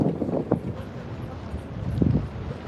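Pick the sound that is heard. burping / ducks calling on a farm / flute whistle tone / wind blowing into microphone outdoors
wind blowing into microphone outdoors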